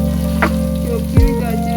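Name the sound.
frying chopped carrots with garlic and ginger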